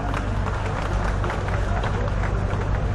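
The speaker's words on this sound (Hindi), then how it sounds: "मैं चाहता हूं पूरा सदन एक बार तालियों से आमंत्रित करे" A large hall audience applauds and claps continuously in welcome of a poet, a dense, steady wash of clapping with crowd murmur mixed in throughout.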